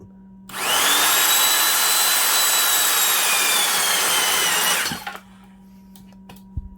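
A powerful drill bores with an Eradicator Professional self-feed bit, giving a loud, steady whining roar for about four seconds that then winds down, followed by a few faint clicks.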